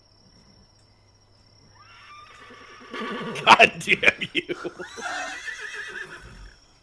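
At a tabletop Dungeons & Dragons session, a player's voice imitates a horse, giving a long, wavering whinny with pulsing neighs. Someone shouts over the end of it, and the group reacts with more talk.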